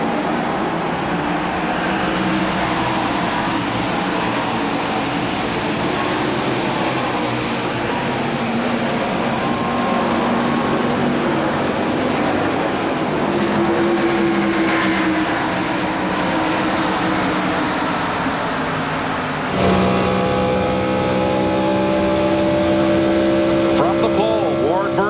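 A 1998 NASCAR Winston Cup field at Michigan Speedway builds speed from about 55 mph behind the pace car toward the green flag, producing a loud, continuous engine roar with a sharp rise in pitch near the end.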